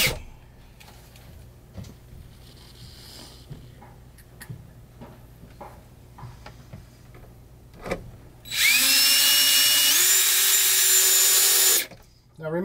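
A power drill runs for about three seconds as screws drive an attic fan into a wooden window mount, loud and steady, after quieter clicks and handling sounds.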